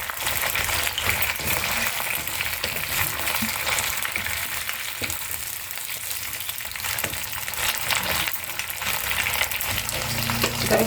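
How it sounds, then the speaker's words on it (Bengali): Potatoes and hyacinth beans frying in a pan, a steady dense sizzle with occasional stirring scrapes, close and continuous throughout with no talk. "আলুগুলো ভাজা হয়ে গেছে প্রায়, এবার সিমগুলো দিয়ে দিচ্ছি এর মধ্যে"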